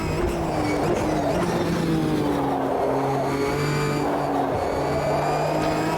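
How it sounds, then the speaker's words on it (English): Engine of a GT4 race car in the racing sim Automobilista 2, a steady loud drone with gliding pitch as it revs up and shifts through gears, running continuously and alone for the whole stretch. "It's an enjoyable car to drive. That's one thing about AMS2 is that the cars actually feel enjoyable."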